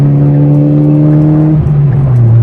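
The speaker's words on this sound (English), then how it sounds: "listen to that exhaust, people" A loud, close engine roar with a deep exhaust drone shifts in pitch as a big truck passes by on a road in Tennessee.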